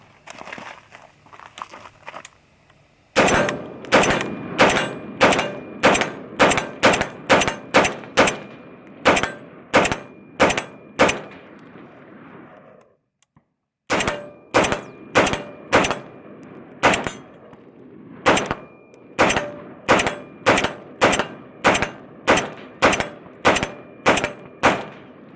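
A Scar 16 short barrel rifle fires through a 30-round magazine outdoors in loud, close single shots at a quick steady cadence, with a brief pause midway before the remaining rounds.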